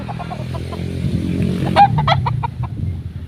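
A gamecock rooster on a game farm gives short clucks and a brief squawk at close range, with faint farmyard noise behind it.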